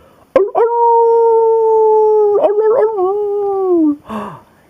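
A voice imitates a coyote howling, a long wavering wail that rises, holds, then drops, followed by a short breathy burst at the end.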